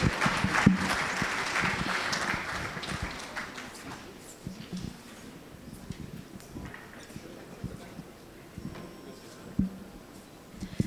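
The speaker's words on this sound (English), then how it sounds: "Please give them the biggest round of applause." An audience at a partnership signing ceremony applauds, the clapping fairly loud at first and then thinning within a few seconds into scattered claps, shuffling and light room noise.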